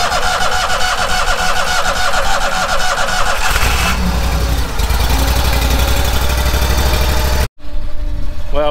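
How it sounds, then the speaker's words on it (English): A farm engine on seeding preparation work cranks on its starter motor with a faulty starter cable, then catches and runs loud and close, its rough running cutting out briefly near the end before resuming. "good that we got the motor started"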